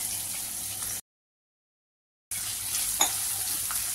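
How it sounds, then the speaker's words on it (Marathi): One large chopped onion sautés in oil with asafoetida, a continuous close sizzle cut by a short silent gap, then resuming with a sharp stirring scrape. "कांदा छान ट्रान्सपरंट होईपर्यंत मी याला परतून घेते तेलामध्ये"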